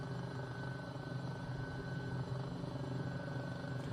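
Steady helicopter engine and rotor drone from a flight simulator video game, a continuous even hum with constant level and no talking over it.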